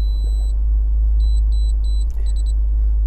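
Electronic warning beeps from an OBD meter buzzer sound in a quick series of short, high tones, some single and some in rapid pairs, over a loud low engine rumble.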